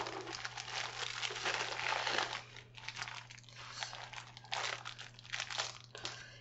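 Bubble wrap packaging crinkling and crackling as a product is unwrapped during an unboxing, close and fairly faint, in uneven bursts with short pauses.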